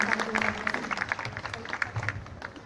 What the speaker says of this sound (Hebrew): תלמידה למופת, מגיעה למחיאות כפיים.